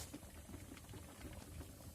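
Soft, low bubbling of a pot of canned meat stew simmering on the heat outdoors, quiet and steady, with faint gurgles and no talking.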